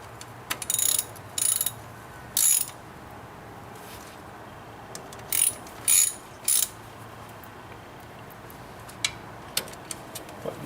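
A torque wrench ratchets while tightening a John Deere 2032R compact tractor's final drive, in several short, sharp clicking bursts separated by quiet pauses, with a few fainter clicks near the end.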